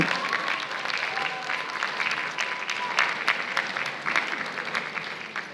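Audience applause at a labour market forum, a steady dense wash of many hands clapping close by, continuing evenly without a break and with no voices over it.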